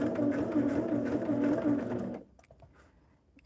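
A sewing machine stitching through layered fabric runs steadily with a fast, even mechanical whir for about two seconds, then stops, leaving a few faint clicks and handling noises.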